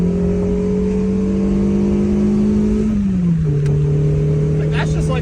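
A custom, daily-driven 1991 Volkswagen Corrado engine revving at half throttle, a steady mid-pitched hum that holds, then drops briefly in pitch near the end, heard close and continuous.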